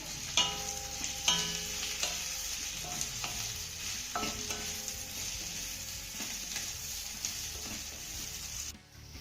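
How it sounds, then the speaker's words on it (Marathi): Close sizzling of steamed cabbage pieces being stir-fried in tempering, with repeated scrapes and clinks of a spatula against the pan at an uneven rhythm. "वड्या आपल्या फोडणीमध्ये घालून झाल्या की एक ते दोन याला चांगलं परतून घ्यायचं आहे"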